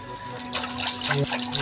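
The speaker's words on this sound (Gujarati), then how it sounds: "એટલે ડાયરેક્ટ મસ્ત પાણીમાં ધોઈ નાખવાની" Fresh curry leaves, a whole sprig, are rinsed in water in a traditional basin, with steady splashing and trickling close by throughout and no voices.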